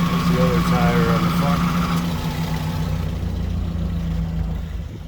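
A 2004 Toyota Celica GT engine idles with a steady low rumble, loud and close, holding an even note with a slight dip partway through.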